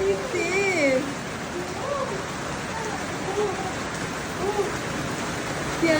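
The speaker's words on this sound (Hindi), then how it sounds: "बारिश हो रही है भाई, बारिश, वो भी इतनी तेज।" Heavy rain pours steadily in Karachi, a dense continuous hiss, while birds chirp and call intermittently through it.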